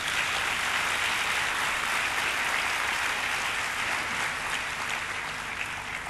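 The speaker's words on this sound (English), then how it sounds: "I think you all deserve a big round of applause." A large crowd at the SP Graduation 2011 ceremony applauds the graduates and their supporters, a dense, even wash of clapping held at constant loudness for several seconds with no talking.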